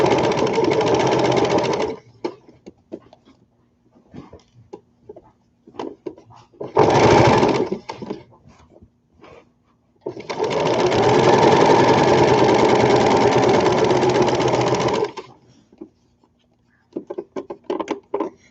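Sewing machine fitted with a walking foot stitching fabric in loud steady mechanical runs, a short burst and then a long sustained stretch, separated by quiet pauses with faint handling clicks.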